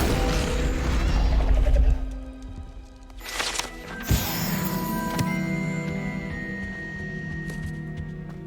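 An Incendio fire spell is cast in a video game: a loud low rumbling rush, then a whoosh and a sharp crash that fades into a sustained fiery roar with mechanical clanks and tones.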